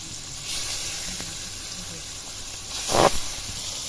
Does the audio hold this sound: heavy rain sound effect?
no